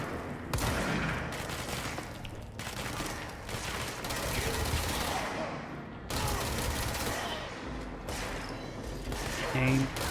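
Sustained, dense gunfire in the video game Control, with rapid shots packed together and brief pauses between volleys, loud and close throughout.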